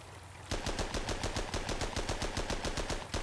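Rapid-fire tank gun shots in the tank simulation game Armored Battle: a fast, steady stream of sharp, punchy shots with no pauses, loud and close, with no talk.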